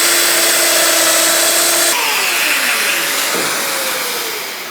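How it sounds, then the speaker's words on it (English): Festool Domino joiner cutting a slot into a piece of wood at 50 mm depth, a loud steady motor whine that drops in pitch as the cutter bites, then slowly winds down. "I'm now going to cut two slots"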